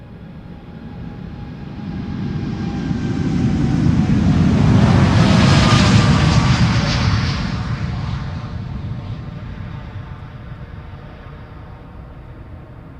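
A TUI Boeing 787-8 Dreamliner departs Schiphol Airport, a broad jet roar swelling from a distance to a loud peak and then fading slowly as it climbs away, with no voices.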